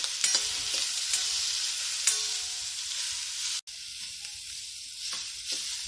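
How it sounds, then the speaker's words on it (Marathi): Onions fry in a pan for chicken masala and are stirred with a spoon, giving a constant close sizzle broken by occasional scraping strokes, with one brief sharp knock and no talking. "आता चांगला हलवायचा कांदा गुलाबी होईपर्यंत"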